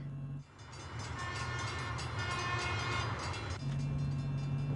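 A train rumbles past nearby, steady and loud, with a horn-like tone at the start and end.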